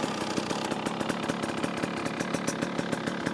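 A 2024 KTM XCW dual sport motorcycle fitted with a dual sport kit runs close by with a steady, fast-pulsing single-cylinder idle, loud and alone with no voices.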